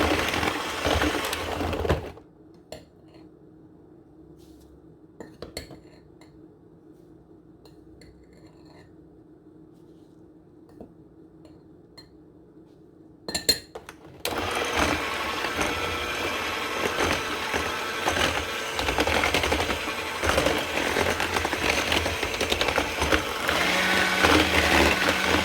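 Semolina batter for basbousa being mixed, a long stretch of loud, steady scraping and whirring that starts after a quieter opening with a low hum, and it carries on to the end.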